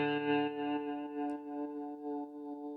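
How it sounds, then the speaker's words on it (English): Sustained electric guitar tones run through a Soundtoys Tremolator tremolo plugin, pulsing in a steady rhythmic swell of volume, with a few faint clicks. "I'm adding again more tremolo, which is the Soundtoys Tremolator,"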